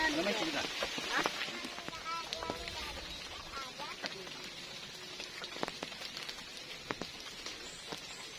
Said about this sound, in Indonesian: Hari hujan ini. Hari kehujanan.